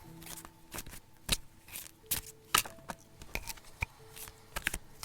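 Oracle cards (Magie Forestière deck) being shuffled by hand, a run of crisp riffling flicks and soft card slaps at irregular intervals, close and fairly quiet with no talk.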